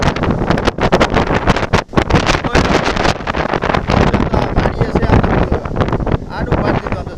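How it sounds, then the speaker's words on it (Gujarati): A heavy windstorm with rain hits a village, the wind roaring and buffeting loudly and constantly close to the microphone in rough, uneven gusts with only one brief lull. "ઓહો ભયંકર પવન આવ્યો આજે"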